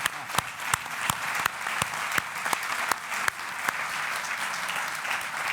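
A hall audience applauds Felipe González at a book presentation, steady dense clapping with a few sharp louder claps standing out, continuous throughout.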